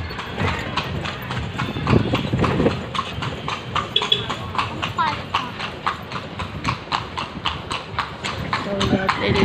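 Horse hooves clip-clop in a steady, even rhythm as a horse pulls a carriage on a Fort Santiago tour, close and continuous throughout, with people talking over it.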